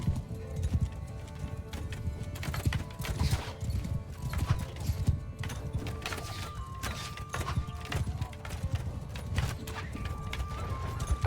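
Cavalry horses galloping in the medieval battle game Mount & Blade II: Bannerlord, a dense, continuous drumming of many hooves with occasional whinnies and clashing, close and loud throughout.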